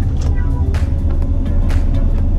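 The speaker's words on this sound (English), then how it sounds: "I'm gonna floor it again." A Karma hybrid car's engine roars steadily under full throttle, a deep continuous drone with rising intensity, close and loud, with faint talk in the background.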